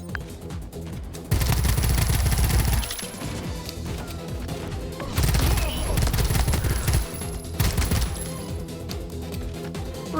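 Guns fire in the game Pax Autocratica as dense, loud bursts of automatic fire in three separate volleys, with quieter stretches in between and faint voices under the action.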